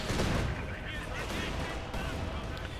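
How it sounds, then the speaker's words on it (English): Grenade blasts and gunfire in the video game Company of Heroes 2, a loud, dense, continuous barrage of battle noise with heavy low rumble throughout. "More infantry attacking. Grenade exchange there."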